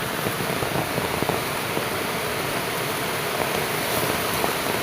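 Rain falling outdoors as a steady, dense hiss that covers the whole stretch with even loudness and no talking.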